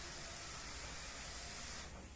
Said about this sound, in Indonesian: Kita goreng perlahan-lahan, ngaduknya perlahan-lahan. Kita goreng hingga coklat keemasan.